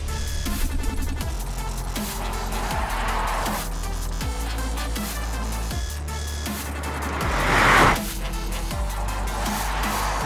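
A 2021 Audi e-tron S Sportback electric car accelerates hard at a test track, its motor whine rising and falling in repeated sweeps with a brief swell of road or tire noise near the end.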